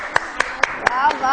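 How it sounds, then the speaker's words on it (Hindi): A handful of sharp, evenly spaced hand claps, about six in quick steady rhythm, ring out close and clear at a children's craft segment on a TV morning show, over a sustained voice-like tone. "तालियां तालियां।"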